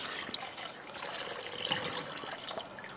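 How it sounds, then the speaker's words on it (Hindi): Coconut milk pours steadily into a pot of simmering stock, a continuous liquid trickle and splash lasting about three seconds with no talking. "और अब हम डालेंगे कोकोनट मिल्क।"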